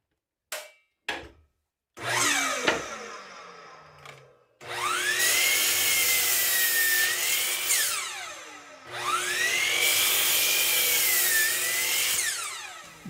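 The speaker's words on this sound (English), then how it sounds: "now that I have the blade sharpened, I can test it out and see how it cuts." A table saw with a freshly sharpened blade spins up with a rising whine and then cuts wood in two long, loud, steady passes, the pitch sagging under load and recovering at the end of each cut.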